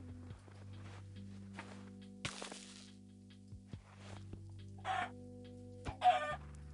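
A chicken in the video game Minecraft clucks several times in short bursts over a steady low game hum, with a few footstep-like clicks between calls.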